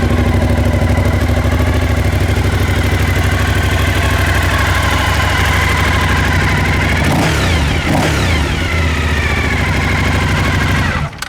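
A 2003 Suzuki SV1000S motorcycle engine runs loud and steady up close, holding a continuous rumble with a couple of brief throttle blips near the end and no talking.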